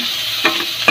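Tomatoes sautéing in a pan give a loud, continuous sizzle, broken by two quick scraping stirs, with no one speaking.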